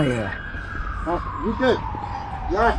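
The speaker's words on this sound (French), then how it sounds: "c'est une ville qui est très bruyante, vous devez l'entendre. Ces sirènes là, c'est en permanence" A wailing siren sweeps up and down amid Bucharest city traffic noise, with short chirping siren bursts and a voice talking underneath.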